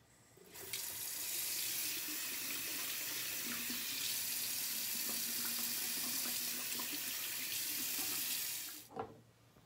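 Water runs steadily from a tap as hands are rinsed at a bathroom sink, a smooth close splashing rush of about eight seconds that cuts off abruptly, followed by a brief clunk.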